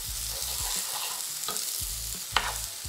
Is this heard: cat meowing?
no